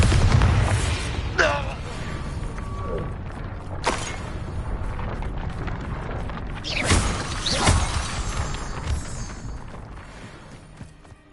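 The Bombarda explosion spell cast in the Hogwarts Legacy video game: several loud booms and crashing blasts with debris, spread across the stretch, as a voice shouts over them before the rumble tails off.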